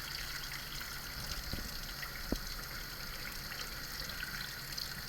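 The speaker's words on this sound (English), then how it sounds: "pour off all that starchy water" Faint steady trickle of starchy rinse water pouring off rice, with a couple of soft clinks, quiet and close.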